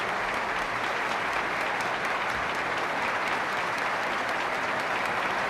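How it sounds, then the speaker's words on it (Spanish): Deputies and senators on their feet applaud the King and Queen in the Cortes chamber at the sanction of the 1978 Constitution; dense, steady applause fills the hall evenly throughout without a break. "Diputados y senadores, puestos en pie, aplauden a sus majestades."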